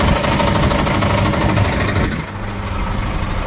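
A faulty vehicle engine runs loudly with a rough, knocking clatter, a steady mechanical racket close by that drops a little in level partway through, in a laneway beside a church.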